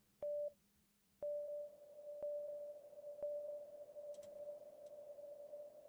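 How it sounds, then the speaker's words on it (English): Heartbeat-monitor style electronic beep made in FL Studio: a faint, pure sustained tone opens with a short blip, then drones steadily, with soft periodic ticks about once per second. "I added this little like heartbeat monitor thing."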